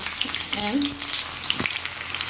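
Steady crackling sizzle of onion frying in hot oil, continuous and fairly close.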